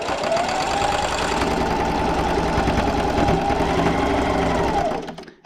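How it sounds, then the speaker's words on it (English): A sewing machine runs a fast, steady, close whir while backstitching a quarter-inch seam on a small fabric coin purse, then slows and stops at the end. "Alright, so this time I will backstitch."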